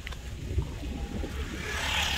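A motorboat engine drones steadily on a lake outing in Tanay, a low continuous rumble with water wash that grows slightly louder and brighter toward the end.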